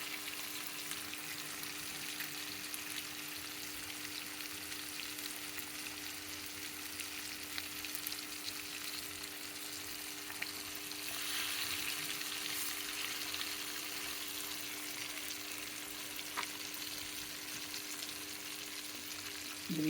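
Fish sizzles and crackles steadily in hot oil in a pan for an Andhra style fish fry, a continuous close frying hiss with occasional pops and a faint steady hum beneath.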